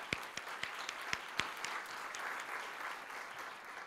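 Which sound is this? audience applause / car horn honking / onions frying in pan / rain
audience applause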